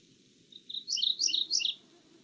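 A mourning warbler sings a short, rough, gravelly phrase of repeated churry notes, clear and fairly close against a quiet outdoor background.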